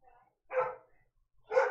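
Two loud, close dog barks separated by a second of near-silence, each a short broad burst.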